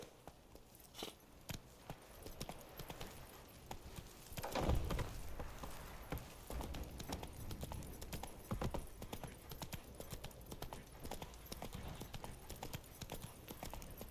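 Roach the horse trots in The Witcher 3, a steady faint clip-clop of hooves repeating throughout, low in level under game ambience.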